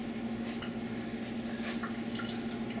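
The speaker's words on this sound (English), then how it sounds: "pour the water off" Water is dumped out of a jar of soaking sprouting seeds, a continuous close splashing and trickling with scattered drips over a steady hum.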